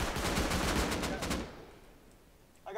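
A rapid burst of automatic fire from an auto-turret in the video game Rust rattles loudly for about a second and a half, then stops, leaving a low background hum and a brief later noise.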